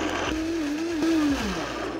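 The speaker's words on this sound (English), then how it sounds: "I'm just throwing them all into a blender" A blender purees tomatoes with a steady motor whir that shifts pitch slightly as the blades work through the load, close and loud, running alone for about two seconds.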